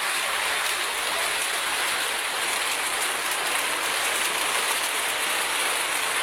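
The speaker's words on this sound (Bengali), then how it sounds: "এই যে বৃষ্টি শুরু হয়ে গেছে।" Steady rain falls outside a village home, a dense, even hiss of drops that continues unbroken throughout without any voices.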